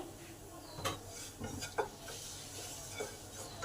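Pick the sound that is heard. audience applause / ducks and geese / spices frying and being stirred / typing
spices frying and being stirred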